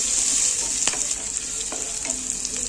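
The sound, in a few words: onion jeera rice with mint frying in a pan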